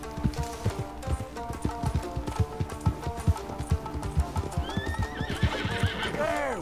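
Appaloosa horse in Red Dead Redemption, heard close with a rapid run of clip-clopping hooves and then a loud whinny near the end, all over game music with no talk.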